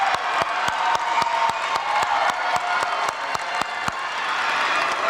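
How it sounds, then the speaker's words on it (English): Steady, dense applause from a large graduation audience in a stadium, continuous clapping throughout with a few sharper claps standing out near the front. "everyone, round of applause"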